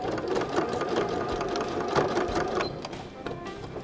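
A sewing machine topstitching both sides of fabric, heard as a close, fast, steady mechanical whirring and needle chatter that runs throughout, slowing briefly near the end before picking up again.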